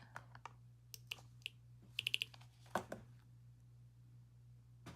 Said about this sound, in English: I'm hearing typing.